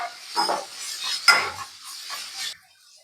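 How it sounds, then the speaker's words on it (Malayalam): Onion, garlic, ginger and green chili being sautéed for a pork roast, with a spoon scraping and clinking against the pan over a soft sizzle in short stirring strokes, close and moderately loud. "സബോള വഴറ്റാം അതിനുശേഷം വെളുത്തുള്ളിയും ഇഞ്ചിയും പച്ചമുളകും ഇട്ട് നല്ല ബ്രൗൺ കളർ ആവുന്ന വരെ ഇളക്കി കൊടുക്കുക"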